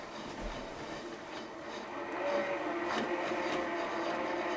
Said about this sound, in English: the cone winder is pulling yarn from that cone. I can speed that up.